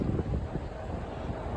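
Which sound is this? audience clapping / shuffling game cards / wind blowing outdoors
wind blowing outdoors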